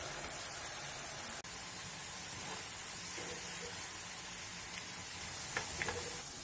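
Potatoes for crisps frying in hot oil in small batches, a steady broad hiss and sizzle that runs throughout with a few faint pops, fairly quiet and with no voices.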